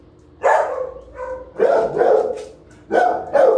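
A beagle at an animal shelter barks in several loud, close bursts: one single bark, then a doubled pair, then another pair, with short quiet gaps between them.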